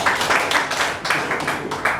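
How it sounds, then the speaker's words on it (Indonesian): Audience applause for Pak Panggabean at a briefing meeting of section heads, steady dense clapping filling the room at moderate loudness, with no speech over it. "kita tepuk tangan buat Pak Panggabean"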